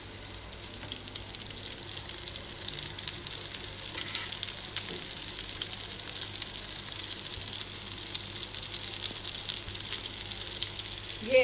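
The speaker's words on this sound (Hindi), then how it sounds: "मैं इसको तल रही हूँ।" Potato and chicken cutlets coated in breadcrumbs frying in oil, giving a continuous soft crackling sizzle that stays even and fairly quiet throughout, heard close up with no voices.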